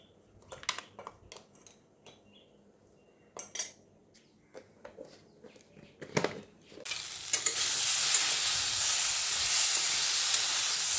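Paneer and lentil badi frying in oil, starting with scattered clinks of a utensil against the pan before a loud, steady sizzle takes over for the last few seconds, close and with no voices.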